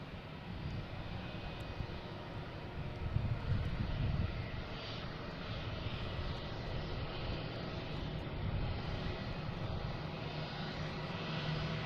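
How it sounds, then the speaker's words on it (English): A JetBlue Airbus A320 bound for Atlanta takes off at Boston Logan International Airport, its engines a steady, broad roar that stays fairly distant and even, swelling slightly for a moment before holding level throughout. "we have JetBlue ready to take off, heading to Atlanta, an A320, flight 6697"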